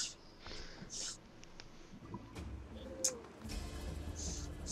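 Pigeons coo in Assassin's Creed, a few soft throaty calls rising over a low ambient game backdrop, with faint chirps scattered through.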